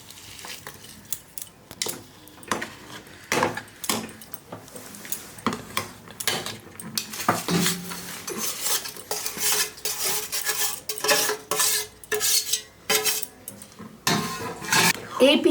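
Rice flour, milk, sugar and jaggery being stirred in a pot with a metal utensil: a steady run of scraping clinks and knocks against the pot, close and moderately loud, with no talking.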